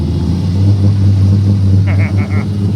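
Third-generation Camaro on a test drive, its engine giving a steady loud low rumble throughout with a brief higher-pitched squeak or whine near the end.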